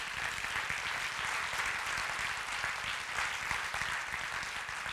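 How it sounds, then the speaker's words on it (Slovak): Audience applause at an awards gala for women in IT, a dense, even burst of many hands clapping that holds steady throughout. "Venujte im prosím potlesk."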